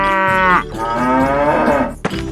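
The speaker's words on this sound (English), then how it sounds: "cow." A cow moos in a 3D animal video game, one long drawn-out low call followed by a brief second burst, loud and close with no talk.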